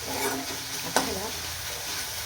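Masala fries in oil in a pan over medium-low gas, a continuous close sizzle and hiss with a single sharp clink of a utensil partway through and no talking.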